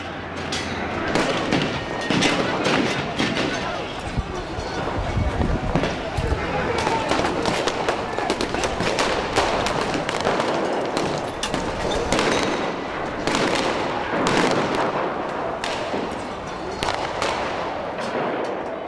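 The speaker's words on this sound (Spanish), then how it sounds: "La policía dispara contra los piqueteros." Police gunfire crackles during a street clash with protesters in Avellaneda, dense repeated loud shots and bangs going on without pause amid shouting voices and crowd noise.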